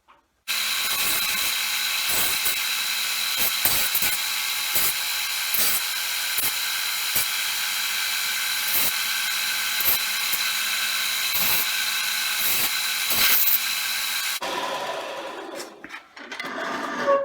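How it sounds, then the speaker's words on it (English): A sander smooths the base of a wooden billy club, giving a loud, steady whirring grind with faint rhythmic clicks, running continuously for about fourteen seconds before cutting off and winding down. "Just giving it a once over on the sander."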